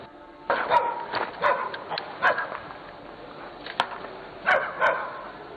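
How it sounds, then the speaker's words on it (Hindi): Several dogs bark in scattered bursts from a moderate distance, some sharp and some yelping, with quiet gaps between the outbursts. "ये किसे देख के भौंक रहे हैं?"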